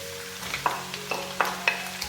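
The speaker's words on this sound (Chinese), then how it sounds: "先把五花肉呢放进来煸出油" Minced garlic and dried preserved mustard greens are stir-fried in rendered pork belly fat in a wok, giving a steady low sizzle with several sharp spatula scrapes and clinks spaced across the short stretch; no one speaks.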